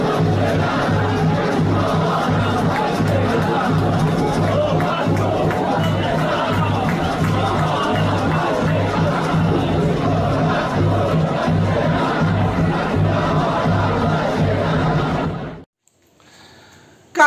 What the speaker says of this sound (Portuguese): Vou botar aí a torcida do Marcílio Dias provocando o Vasco